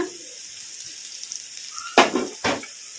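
Onions and curry leaves fry in a pan over a medium flame for an Andhra-style eggplant dish. A soft, steady sizzle runs throughout, broken by two louder scraping bursts as the mixture is stirred.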